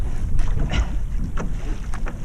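A Nelo 520 surf ski kayak is paddled across a boat wake in steady strokes. Water splashes and sloshes close by under heavy wind buffeting on the microphone, and no one speaks.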